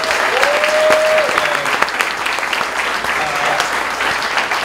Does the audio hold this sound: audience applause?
yes